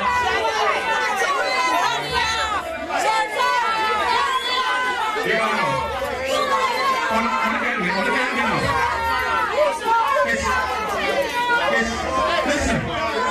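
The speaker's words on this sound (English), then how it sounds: "Turn down the crowd." A crowd at a 2007 dancehall event chatters as a dense, continuous babble of many overlapping voices, with shouts and calls rising out of the din throughout.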